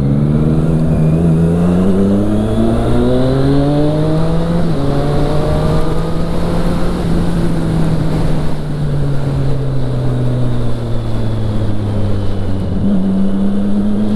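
A loud, steady Triumph Street Triple 675R motorcycle engine drones throughout while riding, its pitch rising and falling as it revs and shifts, close and continuous with no talking.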